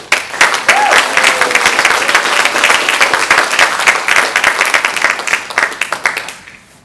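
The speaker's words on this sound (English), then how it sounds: "A round of applause," An audience at a performing arts showcase bursts into loud, dense applause for the Black Orchid String Trio, sustained for several seconds before thinning into scattered claps and fading out.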